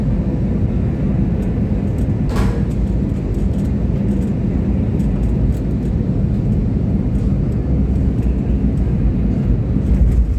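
Inside a passenger airliner descending toward the runway on a Visakhapatnam to Bengaluru flight, a constant loud low engine and air roar fills the cabin, steady throughout with no talk.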